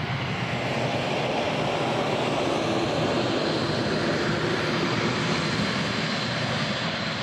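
A C-17 transport aircraft arrives outside a repatriation centre, its engines a loud, continuous broadband roar that holds steady throughout with no talking.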